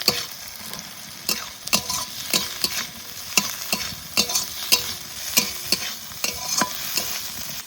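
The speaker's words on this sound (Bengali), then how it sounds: "এবার চিংড়ি মাছ ভাজা এর মধ্যে দিয়ে দেবো।" Fried shrimp being stirred into lightly fried onion in a pan, a continuous sizzle broken by regular metal spatula scrapes and clinks against the pan, close and fairly loud, no voices.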